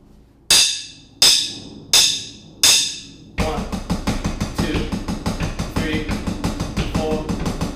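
Drum pattern of seven-note groups played against a quarter-note pulse: four loud, evenly spaced ringing hits open it, then a dense run of rapid strokes follows, close and loud.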